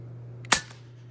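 JSAR Hawk .25 air rifle fired once over a chronograph, a single sharp close crack with a short decay, over a steady low hum.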